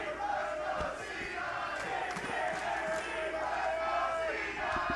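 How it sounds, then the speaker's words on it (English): Arena crowd at an LCS League of Legends esports match, Cloud9 versus Dignitas, roaring and cheering in a steady, dense wall of noise with scattered shouts and whistles throughout. "I'm going to let the crowd do the talking"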